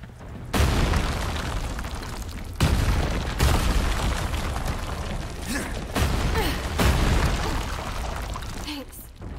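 Repeated heavy booms and rumbling blasts from Resident Evil 4 Remake, several loud bursts about every couple of seconds with crackling debris between them, while a voice talks quietly underneath.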